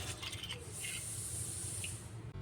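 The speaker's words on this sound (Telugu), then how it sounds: "తర్వాత వీటిని వాటర్ పోసి రెండుసార్లు బాగా వాష్ చేసుకొని" Water pours steadily over rice as it is rinsed, a faint continuous splashing hiss with a few small drips and no speech.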